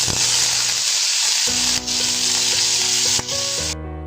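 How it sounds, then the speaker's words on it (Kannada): Mustard seeds and grated ginger hit hot tempering oil for avalakki pongal, giving a loud, close, steady sizzle with crackling pops that tails off near the end. "ಸಾಸಿವೆ ಹಾಕ್ತಾ ಇದ್ದೀನಿ ಈಗ ತುರಿದಿರುವಂಥ ಶುಂಠಿ ಹಾಕೋತಾ ಇದ್ದೀನಿ"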